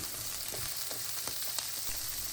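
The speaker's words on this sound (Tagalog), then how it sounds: "Kapag mainit na ito, umpisan na nating i-sear ang karne." Marinated pork shank for bistek na pata searing in a hot pan, giving a steady, moderate sizzle with faint crackles and no talking over it.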